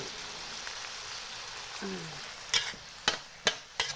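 Clams being stir-fried in a pan for an Isan-style dish, with a steady low sizzle and a few sharp clacks of a utensil hitting the pan and shells toward the end.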